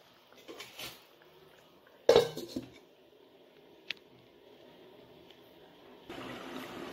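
A lid clatters onto a cooking pan of mustard katla fish curry with potatoes, one sharp metallic knock followed by a brief rattle, with soft kitchen noise before and after.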